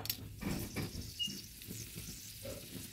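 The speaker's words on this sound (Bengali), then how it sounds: "আমি দিয়ে দেবো এবার শুকনো লঙ্কা ফোড়নটা" Dry red chilies dropped into hot oil in a wok for tempering, giving a soft, close sizzle with light crackles and stirring scrapes that continue evenly without talk.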